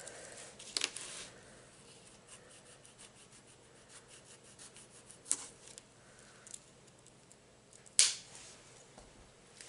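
Paper wrapping is pulled and torn off a poster package, with soft rustling and rubbing throughout and a few sharper crinkles and rips, close by and without talking.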